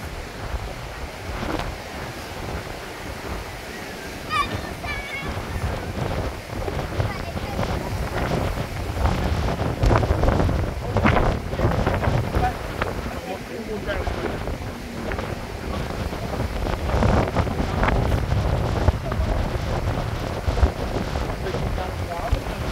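Strong wind gusts buffet the microphone on the beach at Playa de Palma, Mallorca, with surf and waves rolling in, a loud, continuous rushing roar that rises and falls throughout.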